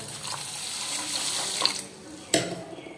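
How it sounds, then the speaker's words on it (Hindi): Water runs steadily from a tap into a sink with a soft hiss, pouring onto rice to soak, followed by a couple of sharp clinks of a pot or dish. "इसके बाद हम चावलों में पानी डाल के रख देंगे।"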